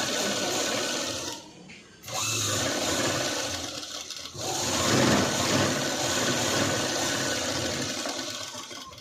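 A sewing machine stitches a padded blouse with a continuous whirring run, briefly pausing before starting up again and running steadily to the end.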